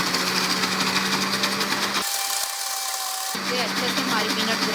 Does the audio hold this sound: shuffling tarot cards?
no